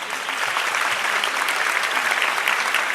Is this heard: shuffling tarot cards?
no